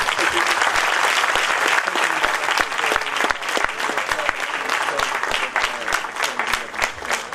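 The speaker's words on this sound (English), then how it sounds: "let's have a clap for everyone who's put this" An audience at a closing plenary session breaks into sustained, lively applause, many hands clapping densely and evenly for several seconds.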